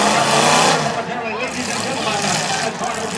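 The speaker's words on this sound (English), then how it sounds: "See him burn that tire off over there?" At a county fair demolition derby, a car spins and burns its tire off, its engine roaring loudly and continuously in an open arena while someone talks over the noise.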